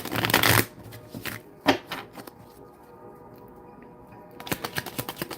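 A Morgan Greer mini tarot deck is shuffled close up, with a quick riffling burst at the start, a couple of single card taps, a quieter pause, and a rapid flurry of card slaps at the end.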